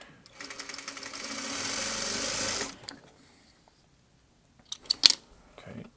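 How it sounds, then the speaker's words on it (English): A sewing machine stitches quilt pieces for a Shoofly block in one steady, close whirring run of about two seconds, followed by quiet clicks and handling noises. "So I'm just going to sew this on."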